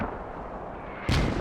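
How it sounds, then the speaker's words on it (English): Enemy mortar fire in a military squad video game: a steady rumble of distant battle noise broken near the end by a single loud, heavy blast. "I'm guessing that was enemy mortar."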